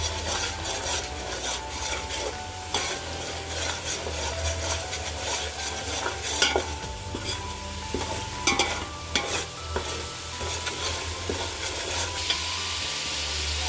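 Onion-tomato masala frying in oil in a pan on full flame, a steady soft sizzle under repeated scraping and stirring strokes of a wooden spatula, close and moderately loud with no voices.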